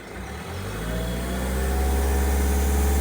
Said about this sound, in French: Est-ce qu'elle peut tourner au ralenti?